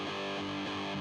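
A distorted electric guitar power chord rings out unmuted with open, sustained strings, holding steady and loud for about a second with no talking.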